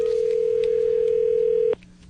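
Telephone ringback tone heard while calling someone: a single steady electronic tone holding for nearly two seconds, then cutting off abruptly, clear and close with no talk.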